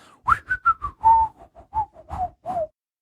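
A short melodic whistled tune, about a dozen quick notes in a bouncy, sliding phrase, heard clearly and alone.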